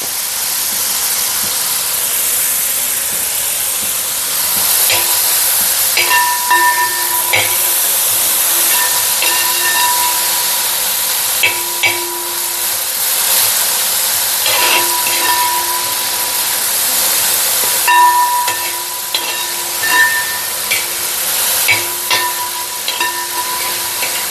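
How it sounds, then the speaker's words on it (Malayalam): Onions with salt sautéing in a pan for a chicken curry, a steady close sizzle and hiss running throughout with scattered stirring clinks and scrapes of a utensil. "ഇന്നത്തെ സവോള നമുക്ക് നല്ലപോലെ ഒന്ന് വഴറ്റിയെടുക്കാം"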